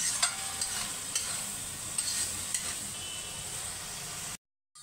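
Ginger and garlic fry in a pan with a steady bright sizzle while a utensil stirs and scrapes at regular intervals, close and fairly quiet, before the sound cuts off abruptly near the end.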